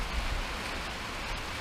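Steady rain falling outdoors on a cold, wet December day near freezing, a continuous hiss of drops with a low rumble underneath, fairly close and with no voices.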